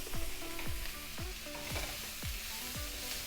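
Cabbage and cauliflower with black pepper are stirred in a pan, a low sizzle under repeated rhythmic scraping strokes of a utensil, about six in a row, with no speech.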